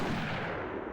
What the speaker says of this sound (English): Shoot him for me.